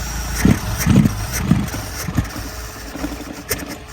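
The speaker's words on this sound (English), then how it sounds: "What's the idle like? The idle is at still about the same." A carburetted Lotus Elan restomod engine idles with a steady low rumble, broken by a few soft, uneven thumps and lumpy pulses, fairly close and without voices.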